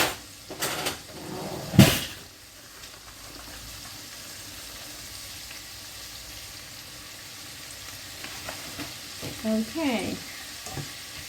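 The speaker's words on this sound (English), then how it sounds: "Give it a stir" A spoon stirs flour into chicken in beer sauce in a cooking pot, giving a soft scraping sizzle with a brief clatter early on and a few scrapes near the end; a voice speaks a single word.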